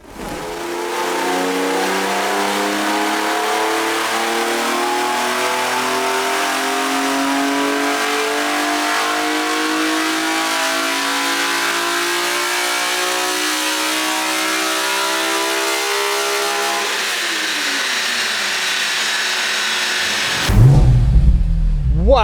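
A BMW Z4 M sports car engine with a CSL airbox intake revs up steadily with a rising, throaty intake roar, sustained and loud, then cuts off abruptly near the end.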